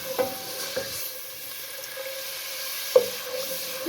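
White lobia (black-eyed beans) masala with spices being fried and stirred in a pan, with a soft steady sizzle and a few sharp scraping clinks of a spoon against the pan.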